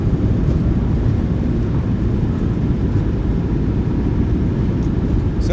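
A PMDG 737-800 in a flight simulator game rolls out after landing with thrust reversers deployed, a loud, steady low roar of engines and rumble that holds evenly throughout with no talk.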